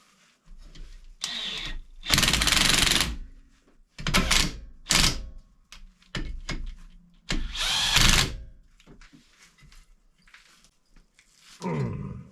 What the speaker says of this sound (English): We're just gonna wind the impact to them.